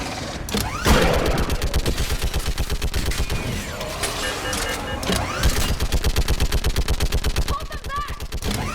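Sustained automatic gunfire in the Mass Effect 3 battle on Thessia: rapid, loud, evenly spaced shots running nearly throughout, with game voices and explosions mixed underneath.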